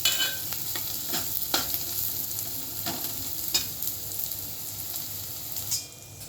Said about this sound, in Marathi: हे पहा भाजीचा कलर चेंज होतोय आणि सारखं हलवायचंच आहे म्हणजे भाजी चिटकणार नाही